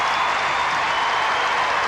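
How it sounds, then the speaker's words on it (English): A big crowd applauding at the State Sports Centre after the 1991 netball World Cup match between New Zealand and Australia, dense steady clapping that fills the whole clip. "the big crowd here at the State Sports Centre gives both teams a big hand"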